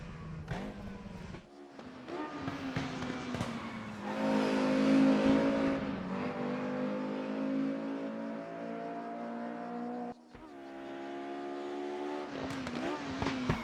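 A Mercedes 190 EVO II DTM race car engine in a video game revs high and loud, with gear shifts briefly cutting the roar and sharp pops crackling between them.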